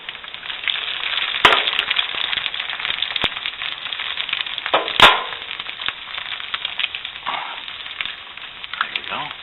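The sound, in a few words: eggs frying in cast iron pan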